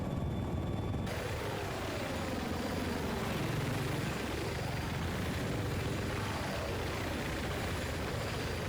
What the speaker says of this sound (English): We're going to do some maneuvers in the helicopter.